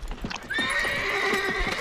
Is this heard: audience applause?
no